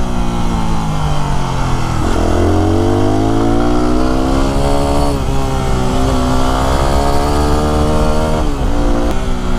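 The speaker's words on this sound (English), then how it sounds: "Man, I forgot how much nicer it is to ride this bike on the road with the Supermoto wheels and tires." A Yamaha WR250R dual-sport on supermoto wheels and tires rides along a mountain road, its single-cylinder engine droning steadily and loud, with pitch rising through several gear shifts and wind roar throughout.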